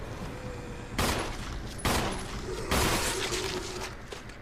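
Gunshots in Resident Evil HD, three sharp, loud blasts spaced about a second apart, each ringing out briefly over a low background hum.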